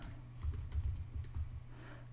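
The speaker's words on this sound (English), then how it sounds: "So I'll type it" Keystrokes on a computer keyboard while entering Swift code, a short run of soft, close taps in uneven bursts over a steady low hum, with no talking.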